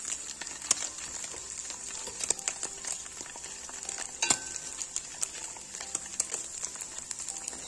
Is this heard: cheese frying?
yes